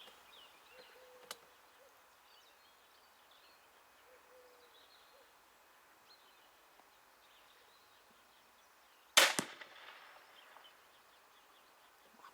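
A single sharp, loud crossbow shot from an Excalibur Assassin 400TD snaps out once against a quiet, faintly rustling background, followed by a brief fading rattle.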